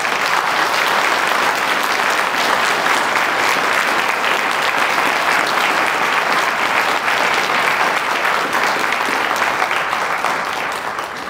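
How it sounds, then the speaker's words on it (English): Sustained applause from an evening panel audience honoring the panelists, dense steady clapping filling the room throughout and tapering slightly at the very end. "Please give them a round of applause."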